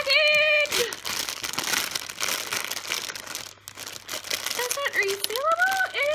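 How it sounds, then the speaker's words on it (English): Plastic packaging crinkling and rustling as a squishy toy is taken out, a busy run of crackly handling noises between stretches of excited talk. "I reckon it's just about time to take it out of the package!"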